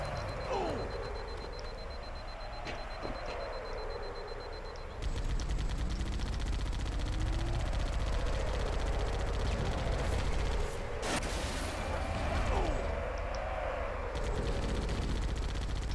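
Turret gunfire in a Halo game with Banshees overhead, a steady barrage of shots running throughout, joined by a whining sweeping engine tone and a louder, denser stretch in the middle, with no voices.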